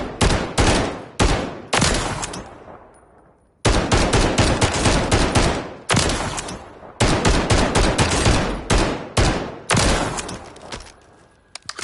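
Bursts of loud automatic fire from a mounted Holger machine gun in Call of Duty MW3, several long volleys separated by short pauses, close and without talk.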